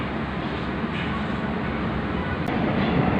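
Cut Meutia passenger train rolling along rails, a steady, fairly loud broadband rumble with no speech, holding even throughout.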